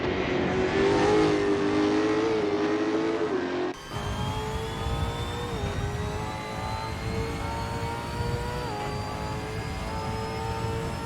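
V8 Supercars racing at Phillip Island in a video game, with loud sustained engine roar rising and falling through gear changes as cars pass, and a brief cut midway.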